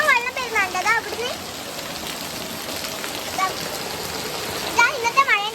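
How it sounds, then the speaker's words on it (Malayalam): Heavy evening rain pours steadily and close by in a continuous hiss, with gusty wind, while a voice speaks briefly over it at the start and end. "ഇന്നത്തെ മഴയുടെ അവസ്ഥ ഗൈസ്."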